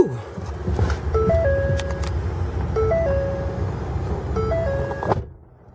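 The Sony-designed audio system in a 2012 Ford F-150 King Ranch EcoBoost pickup plays its startup chime, a bright melodic run of tones repeated a few times over a low cabin rumble, ending abruptly.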